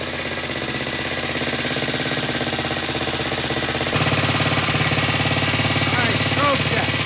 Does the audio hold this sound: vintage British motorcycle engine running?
yes